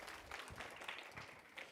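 A youth conference audience gives itself a round of applause: a short burst of many hands clapping, faint and distant, lasting under two seconds.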